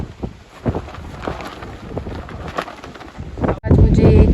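Wind gusts through the open hills of Uttarakhand, buffeting the microphone in uneven rumbling bursts that swell to a loud, sustained roar near the end.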